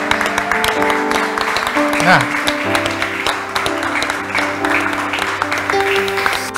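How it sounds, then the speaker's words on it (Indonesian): Wedding guests stand and clap for the newly declared couple, scattered applause mixed with music and chatter in the hall, with a voice briefly speaking over it. "Silakan berdiri dan berikan tepuk tangan."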